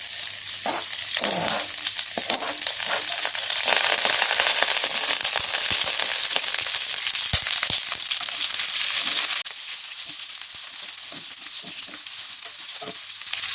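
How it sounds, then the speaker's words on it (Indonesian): Shallots and garlic sautéing in vegetable oil give off a steady, loud hiss and crackle throughout, with small pops and stirring scrapes. The sizzle drops slightly quieter partway through. "sekarang kita tumis ini bawang merah"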